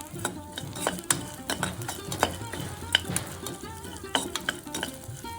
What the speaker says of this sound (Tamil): இப்போது இந்த முந்திரி பருப்பையும் இதில் சேர்த்து வதக்கிக்கலாம்